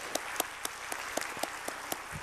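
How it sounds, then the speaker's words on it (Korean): A church congregation claps to encourage its youth group, with sharp individual claps standing out at irregular moments over a continuous bed of general applause, short and fairly close. "우리 청년부 위해서 뜨거운 박수로 격려하십시다"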